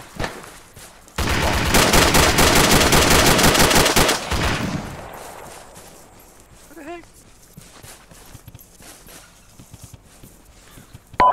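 A dense burst of automatic gunfire erupts for several seconds in a military shooter game, then fades into scattered distant shots, footsteps and radio-style voices.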